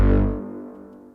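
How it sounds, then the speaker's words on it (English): A single deep, buzzy FM synthesizer bass note struck hard, then decaying and fading out over about a second. "So if it was in FM mode, it would sound like this"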